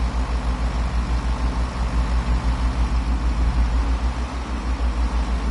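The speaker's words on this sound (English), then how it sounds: "you can hear the bass of the engines going boom" Train engines in the video game Train Sim World 2 rumble with a deep, pulsing bass throb that repeats steadily and stays loud and continuous throughout.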